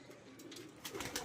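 A pigeon gives a faint, brief coo against quiet background hiss, growing slightly louder toward the end.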